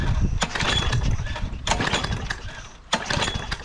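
A 2000s Briggs & Stratton lawn mower engine with no muffler and no air filter cranks in loud, close bursts, sputtering between pulls as it tries to start.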